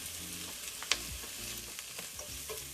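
Onions and garlic sautéing with salt in a pan for a Tamil crab masala, a continuous sizzle broken by scraping stirs and one sharp clink of a spoon against the pan.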